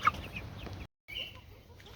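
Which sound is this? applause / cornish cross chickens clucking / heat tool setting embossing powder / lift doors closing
cornish cross chickens clucking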